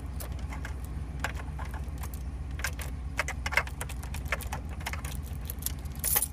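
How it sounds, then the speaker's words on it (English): A car key rattles and jangles in the ignition of a truck as it is tugged, with a bunch of metallic clicks over a low steady engine idle. "now I'm going to try just tugging on the key to see what happens"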